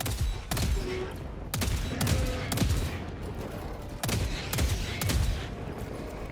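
A sentry turret fires in Helldivers 2, sharp booming shots in irregular bursts, some doubled, each with a low rumbling tail, loud over constant battle noise.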